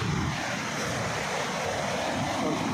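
Sea waves wash onto the shore at a beach, a steady, loud rushing roar with some wind, continuous and without any talking.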